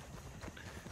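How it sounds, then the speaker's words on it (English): A horse gallops in Red Dead Redemption 2, a quick run of soft hoofbeats heard faintly and briefly with no talk over it. "Come on, you fucking horse, hurry up."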